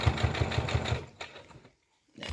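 A sewing machine runs in a quick, steady series of stitches on fabric for a toy bat, then slows and stops, leaving a short silence before it starts again.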